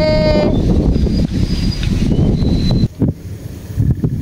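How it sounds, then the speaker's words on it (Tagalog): Strong wind buffets an outdoor spot on an airgun fishing trip, a loud continuous roar with gusts and rustling that rarely lets up. "Hindi namin ito hangin, lakas ng hangin."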